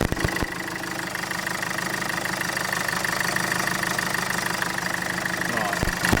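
A car engine idles steadily with a constant mechanical hum and faint knocking vibration throughout, close and fairly loud, beside new heater hoses of a Webasto fuel-burning heater.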